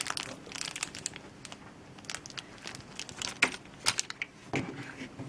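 Keys from the accessory pack of an IPL hair removal machine jangle and clink in irregular bursts, close and fairly quiet, mixed with crinkling rustles.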